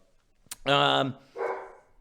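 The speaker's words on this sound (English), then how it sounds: "Oh, there's my idiot dog." A pet dog barks indoors, two loud, close barks, the first sharp and strong, the second a shorter, higher yelp, heard alone with no talk over them.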